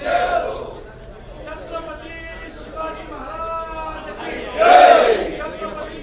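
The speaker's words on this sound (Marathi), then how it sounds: "जय भवानी जय शिवाजी अशी घोषणाबाजी करत जल्लोष साजरा केला जातोय" A celebrating crowd chants 'Jai Bhavani, Jai Shivaji' slogans on the steps of the Vidhan Bhavan, loud massed voices in rhythmic waves that swell to a strong shout near the end.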